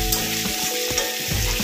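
Ginger paste frying in a pan for chilli paneer, stirred close up with repeated scraping strokes over a steady, loud sizzle.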